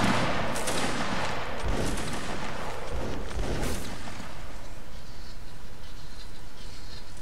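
Musket volleys crack out in a regiment battle video game, with several loud, scattered bursts of massed firing in the first half and a rumbling, noisy battlefield backdrop continuing afterward.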